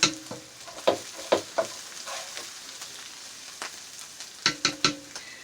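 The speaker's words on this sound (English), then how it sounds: "I'm going to transfer the onions and the garlic" Chopped onions and garlic hit a pot of spaghetti sauce and sizzle faintly close by, with several sharp clatters from a spoon stirring against the pot.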